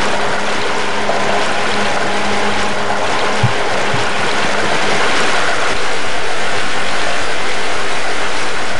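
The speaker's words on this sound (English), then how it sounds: "Yes, yes, I know the waterfalls are so loud." A loud, constant waterfall roar from the video game Half-Life: Blue Shift, a dense unbroken rush of water noise filling the scene with no speech over it.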